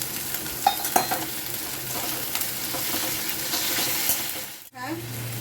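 Ginger garlic paste sizzling and frying with a kilo of mutton and ground black pepper, a steady crackling hiss with stirring scrapes, ending in a sudden drop and a brief low clatter.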